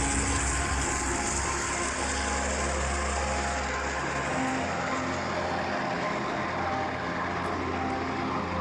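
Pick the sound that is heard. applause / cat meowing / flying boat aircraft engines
flying boat aircraft engines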